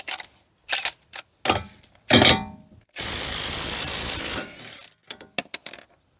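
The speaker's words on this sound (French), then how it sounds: "mais comme j'ai la clé à choc" Impact wrench fitted with a 32 mm socket loosening a tight nut on a rear axle of a Ford Probe / Mazda MX-6: a few sharp bursts, then a sustained loud rattling hammer for about two seconds, followed by short clicks.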